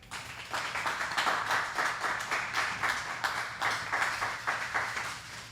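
An audience claps along at a Houston community talk, with steady, rhythmic hand clapping in repeated bursts at moderate loudness, no voices over it.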